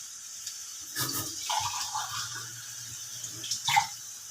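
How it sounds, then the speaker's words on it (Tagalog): Two glasses of water poured into a pan of dried-out pork adobo, giving a soft, splashing gush in two short bursts with quiet gaps between. "Naglagay ako guys ng 2 basong tubig."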